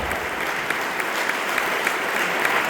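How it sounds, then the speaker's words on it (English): A crowd at a heritage farm celebration in Perryton, Texas, applauds the 200-year heritage farm recipient, a steady, even wash of clapping that stays moderately distant and continuous throughout. "How about a round of applause for our 200 years recipient"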